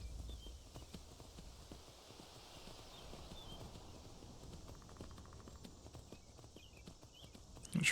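Horse hooves clip-clopping at a steady walking rhythm in Skyrim, the footfalls moderately close and continuous over a faint ambient bed, with a brief louder burst at the very end.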